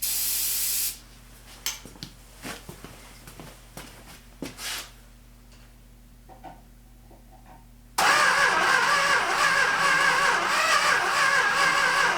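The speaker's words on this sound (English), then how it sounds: "I'm going to spray a little hint of the good stuff here" Starting fluid is sprayed into the carburetor of an abandoned Dodge Monaco engine that has been locked up for over 40 years. A short hiss comes first, then scattered clanks and handling noises, and finally a sudden loud, steady cranking or running roar.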